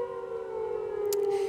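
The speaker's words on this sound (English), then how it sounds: "Sorry for the siren" A civil defense siren holds a sustained, droning tone steady throughout, with a brief click-like sound near the end.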